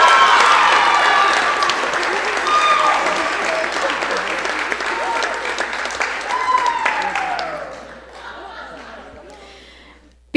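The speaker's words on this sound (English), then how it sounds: "I think we need one more round of applause for our" Loud, sustained applause from a large crowd at a 2025 university coronation ceremony, thinning toward the end, with a voice speaking over the clapping.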